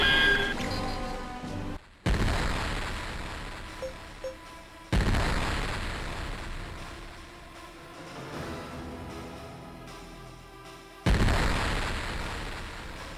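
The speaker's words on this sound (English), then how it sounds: "I took a barrage there" Repeated heavy booms of an explosion barrage in the Nintendo DS space RPG Infinite Space, several loud broadband blasts a few seconds apart, each decaying under a steady electronic game soundtrack.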